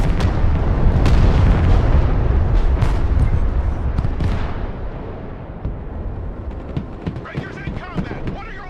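Rockets launch and explode in a chaotic video game battle, heavy booming blasts rolling one after another for several seconds before thinning out into scattered smaller bursts.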